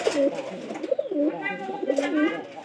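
Pigeons coo repeatedly with rounded, rolling calls at close range inside a dovecote, several birds overlapping with a steady rhythm while a person talks alongside them.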